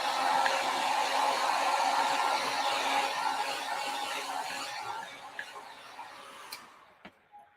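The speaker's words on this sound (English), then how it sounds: "All right, heat tool really super quick." A craft heat tool blows hot air in a steady, even whoosh that runs for several seconds, then fades and cuts off, leaving a few small ticks and clicks.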